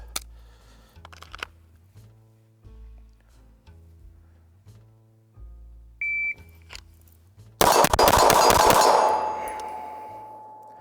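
A Glock 19 Gen 5 pistol with a Ramjet Afterburner fires a quick burst of loud, sharp shots near the end, ringing out over faint background talk after a short electronic beep.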